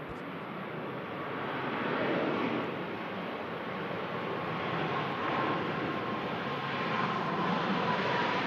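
A Malta Air airliner touches down at Manchester Airport, a steady broad roar of jet engines and rushing air holding at an even level throughout, slightly swelling in the middle and toward the end.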